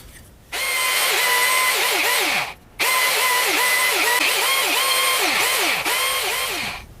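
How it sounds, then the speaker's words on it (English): A power drill boring out broken wooden dowels during a furniture rebuild, whining loudly in two long bursts with a brief pause between and pitch dips as the bit bites into the wood. "for the broken off dowels in here, basically just going to try and drill these out"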